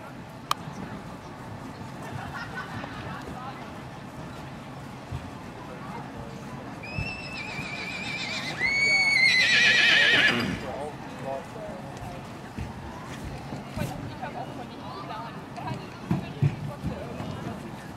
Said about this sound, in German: Das ist ein dreijähriges Pferd.